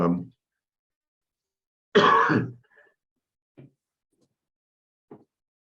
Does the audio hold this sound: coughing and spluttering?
yes